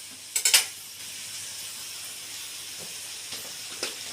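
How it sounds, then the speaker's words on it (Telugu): Beans stirred into sizzling pav bhaji in a pan, a steady close hiss of frying with a few sharp scraping bursts from the stirring at the start and end, no voices. "నెక్స్ట్ బీన్స్ వేసుకోవాలి, కలుపుకోండి."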